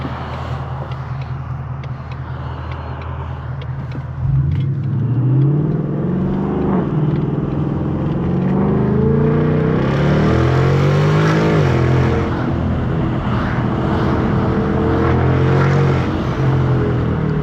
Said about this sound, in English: I'll try and get a good little pull right here